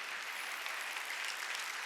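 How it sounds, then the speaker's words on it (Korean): A church congregation claps steadily and densely during a Wednesday worship service, a sustained wash of many hands with no voices above it. "박수 치라고."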